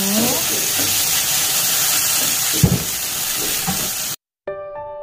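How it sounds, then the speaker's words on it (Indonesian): Galangal, ginger, chili and lemongrass sauté in hot oil in a pan, giving a loud, continuous close sizzle with brief clatters of stirring before a sudden cut to a short bright tone. "Sekalian kita tumis biar harum."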